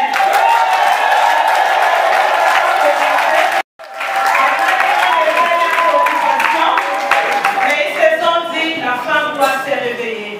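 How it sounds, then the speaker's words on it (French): Loud, sustained applause from a large crowd, a brief drop to silence partway, then clapping resumes with some scattered cheers and voices. "Applaudir pour elle-même."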